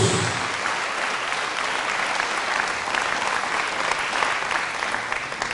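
A Catholic church congregation gives a steady, dense round of applause during a homily, the clapping continuous and even throughout, with no voices rising above it.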